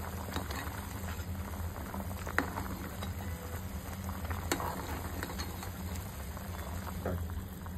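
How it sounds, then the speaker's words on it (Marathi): Corn amti curry simmering uncovered in a pot, a soft steady bubbling with occasional small pops, quiet and close, with no voices. "आता ही आमटी आपण झाकण न मारता 5 मिनिटं उकळी येऊन द्यायची"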